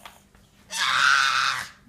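One loud scream bursts out suddenly and holds for about a second before cutting off, with faint noise before it.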